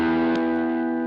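A Marshall JTM1 guitar amp head driven through a boost pedal, set for a thinner, less clipped tone: a single sustained electric guitar chord ringing out and slowly fading over about a second.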